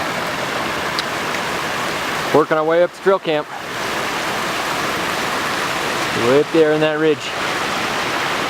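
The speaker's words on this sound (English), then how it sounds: "Got a cool little waterfall stair step to go." A small stair-step waterfall beside the Mt. Whitney trail rushes loudly and steadily, a close, broad roar of falling water that continues under two short spoken phrases.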